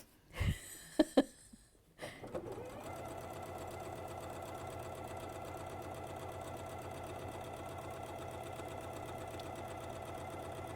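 Sewing machine stitching a quilt, a steady rapid mechanical chatter running continuously and close after a few brief knocks and handling noises at the start.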